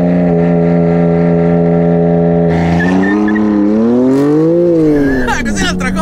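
BMW M2 CS or Mercedes-AMG A45 S sports car making a launch-control start, with a loud, steady engine drone that climbs sharply in revs, a quick gear change and a rising roar, while people in the cabin talk over it.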